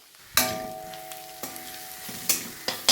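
Garam masala powder being stirred and frying in a pan for a homestyle curry, with a spatula scraping through it in several distinct strokes over a steady close sizzle.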